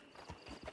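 Horse hooves clip-clopping in Red Dead Online, a short run of soft, uneven thuds at moderate distance, with faint background game ambience and no talk.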